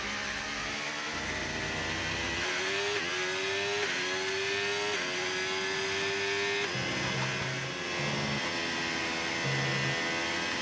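A race car engine in a racing video game whines loudly and continuously, its pitch climbing steadily before dropping with a gear change and then rising again, with no voices.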